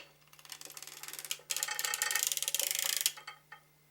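Needles on a knitting machine bed are raised in a quick run, a dense rattling ratchet of rapid metallic clicks close by, in two bursts with a brief pause between and a final click.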